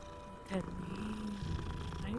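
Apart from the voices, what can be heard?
cat purring in the video game Hogwarts Legacy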